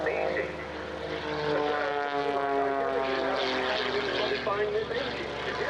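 Propeller aircraft flying a display run at the RAF Cosford airshow, a loud sustained engine drone with rising and falling harmonic whine as it passes, with a commentator talking over it throughout.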